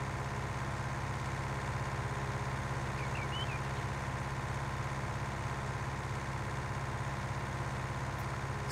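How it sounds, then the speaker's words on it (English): A tractor engine idles in the Farming Simulator 19 video game, giving a steady, continuous low drone at an even level throughout, with no talking. "this tractor ain't good for much"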